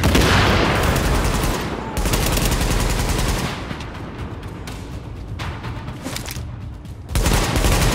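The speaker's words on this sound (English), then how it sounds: "Keep shooting" Rapid bursts of gunfire in the video game The Division, loud and continuous with overlapping shots, dipping briefly before another strong volley near the end.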